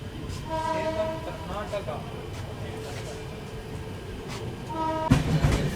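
An Indian express train, the Hussain Sagar Superfast, pulls out of Sedam station. Two short horn blasts, one early and one near the end, sound over low rumbling and station ambience while someone talks nearby.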